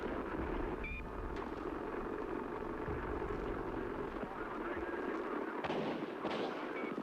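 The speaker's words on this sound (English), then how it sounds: "At that moment, shots rang out." Gunshot sound effects for the assassination of President Kennedy play over a heavy, rumbling background. A couple of sharper bursts stand out near the end.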